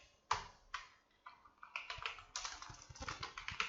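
Code being typed on a computer keyboard in quick, irregular bursts of close key clicks, with a few isolated taps at first and then denser typing.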